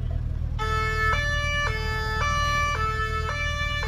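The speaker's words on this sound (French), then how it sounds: "Ils font du bruit avec leur sirène" An emergency vehicle siren starts after a brief pause and wails steadily in a repeating two-tone pattern, loud and close, over a constant low rumble of road traffic.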